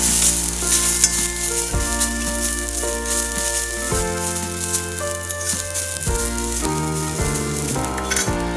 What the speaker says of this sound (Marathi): त्यामध्ये हा खोबऱ्याचा बारीक केलेला किस टाकायचा। किस थोडा परतून घ्यायचा आहे।